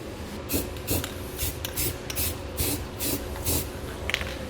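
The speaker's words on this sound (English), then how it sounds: "we can use some clear spray paint to prevent any kind of rust or corrosion" Repeated short hissing bursts of a clear spray paint aerosol can on truck-bed trailer hitch hardware, about two per second, close and fairly loud, with faint rattling between sprays.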